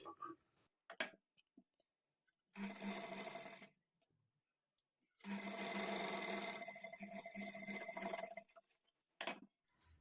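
A sewing machine stitches invisible thread piping in two loud bursts of steady whirring, the second longer, separated by quiet pauses with scattered clicks and handling noises.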